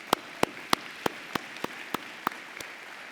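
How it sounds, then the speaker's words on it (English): Audience at a spring college commencement ceremony clapping, heard as a sparse series of about nine sharp, evenly spaced claps over a quiet hall background. "you deserve another round of applause."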